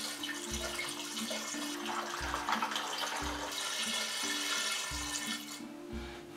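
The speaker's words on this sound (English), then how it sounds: "I can add a little bit more water. And just listen to the pitch." Water pours steadily into a five-gallon self-watering planter bucket, a continuous rushing fill with a low tone pulsing at regular intervals underneath, close and fairly loud, with no talking.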